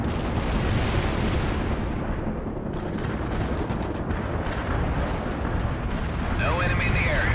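Artillery barrage in the World in Conflict video game: dense, continuous rumbling blasts and booms fill the scene at steady high loudness, with layered impacts overlapping throughout.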